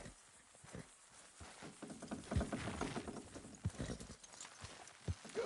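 Horse hoofbeats in Red Dead Redemption 2 clip-clop in a steady, rhythmic gait, fairly close and clear, with faint game ambience and mechanical creaks beneath.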